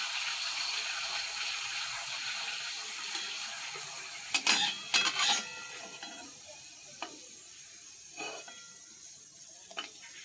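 Papads frying in hot oil in a kadai, giving a steady close hiss of sizzling with a few brief louder crackling bursts in the middle and near the end, no talking.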